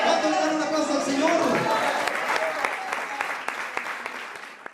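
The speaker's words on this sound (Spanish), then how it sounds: "¿Cuánto le dan un aplauso al Señor?" A church congregation claps together in a full burst of applause during a Spanish-language Christian sermon, dense clapping with voices and cheers mixed in that gradually thins and fades.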